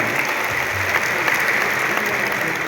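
Steady, loud audience applause at a Hindi poetry gathering in Patna, dense continuous clapping from a large crowd throughout.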